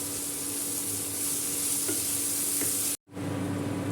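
Bottle gourd peel frying with onion, salt, turmeric and cumin powder in a pan: a dense, even sizzle with faint stirring scrapes, cut off by a short silence before the sizzle returns.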